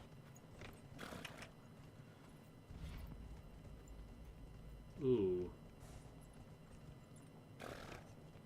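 Horse hooves clip-clopping in the Dragon Age Inquisition video game, a steady walking rhythm with a brief louder thump and a short vocal exclamation, over quiet game ambience.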